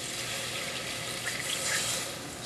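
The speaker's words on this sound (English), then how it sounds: "Just gonna keep pouring in, put all my juice in." Juices from braised Asian short ribs poured from a fat separator into a pot, a continuous close liquid pour with a steady trickling hiss and no talk.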